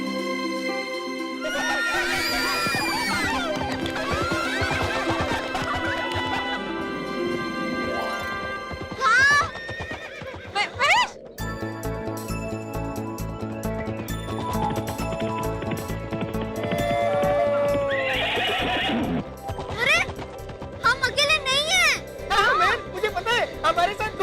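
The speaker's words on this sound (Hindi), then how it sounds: "हमारे साथ घोड़े भी जा रहे हैं।" Horses neigh with shrill whinnies and their hooves clip-clop alongside a procession with a cloud chariot. Musical tones and crashes blend in, and people's voices sound over a busy, loud mix.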